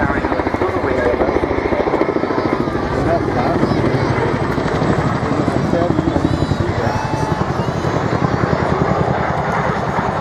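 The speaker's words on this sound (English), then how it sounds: "generating a distinctive sound as the Chinook rotates" A twin-rotor Chinook helicopter performs an airshow display at the Wales National Airshow, producing a loud, continuous rhythmic rotor thudding and engine whine that holds steady throughout, with a commentator speaking over it.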